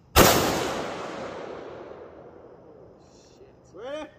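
A single loud gunshot cracks at an outdoor shooting range and booms away in a long fading echo, followed by a brief voice near the end.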